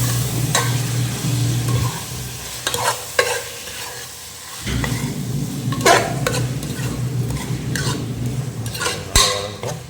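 Tomatoes frying in hot oil for mutton biryani, stirred with a spoon against the pot: steady sizzle under repeated close scrapes and metallic clinks, no talk.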